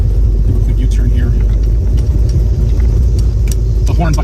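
A Ford muscle car with a 351 V8 rumbles steadily up close as it swings through a quick U-turn, its low engine drone continuous beneath someone talking.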